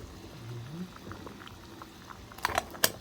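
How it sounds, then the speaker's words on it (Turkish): Tea bubbling at a boil on a wood-burning stove in a village home, a steady low simmering patter with a couple of sharp clinks near the end and faint voices in the background. "Çay da kaynıyor."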